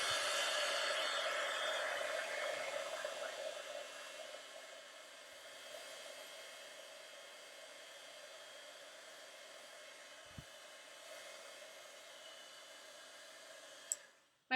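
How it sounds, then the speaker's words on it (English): An embossing heat tool blows hot air in a continuous, close whooshing whir, loudest at the start and then steady and slightly softer, ending with a sharp click as it switches off. "And then I'm going to take my heat tool And I'm going to kind of move it around."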